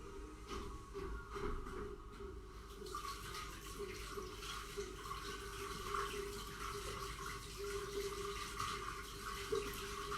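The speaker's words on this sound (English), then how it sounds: "and I wash my hand first" Tap water running while hands are washed during bread making, a faint steady stream with some splashing early on, heard alone.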